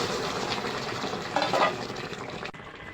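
Broccoli curry cooks in a wok over a cumin seed tempering in oil, a dense bubbling sizzle with a brief swell of stirring midway, close and moderately loud.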